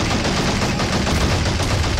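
Tank cannon fire and battle noise in the WWII strategy game Men of War Assault Squad 2, a dense, loud, continuous barrage of gunfire and rumbling explosions across the whole stretch with no talk.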